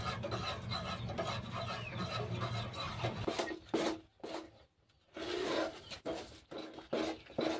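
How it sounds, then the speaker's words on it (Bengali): Orange juice and sugar syrup thickened with cornflour are stirred continuously in a pan over a low flame, giving a steady scraping and rubbing of the spoon against the pan, close, with brief pauses. "এরপর আমি এই জুসটা চিনি সিরাপের মধ্যে আমি ঢেলে দিলাম। অনবরত নাড়তে থাকবো"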